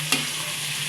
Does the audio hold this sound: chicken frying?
yes